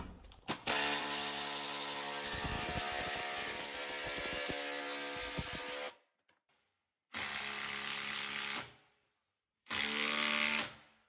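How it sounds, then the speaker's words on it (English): An impact driver whirs loudly and steadily into large logs for several seconds, then runs in two shorter bursts separated by silence. "That is a lot of drilling."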